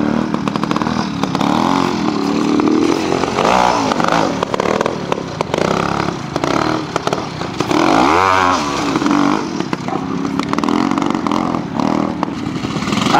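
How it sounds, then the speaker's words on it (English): Classic BSA Bantam trials motorcycle ridden at a pre-unit trial on the moorland track at Keighley Gate, Yorkshire: loud, close two-stroke engine buzzing and revving continuously, rising in a sharp burst partway through, with clattering and scraping over rough ground. "These are Alan Mills, BSA Bantam."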